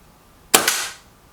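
A single sharp PCP air rifle shot from a budget Stoeger XM1 or Milbro Guardian cracks loudly and close, followed by a short hissing tail that fades within half a second amid otherwise quiet surroundings.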